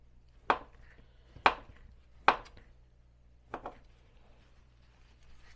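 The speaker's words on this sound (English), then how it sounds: "So I'm going to slice up 2 of the sausages." A knife cuts through peeled sausages on a board, four crisp chopping knocks spaced about a second apart, close and distinct, with quiet pauses between them.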